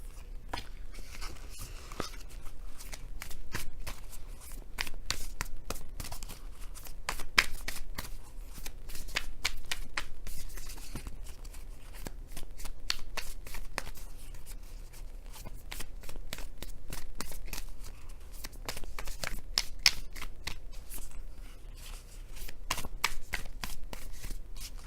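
Tarot cards being shuffled continuously up close, a rapid stream of crisp flicks and riffles with no talking.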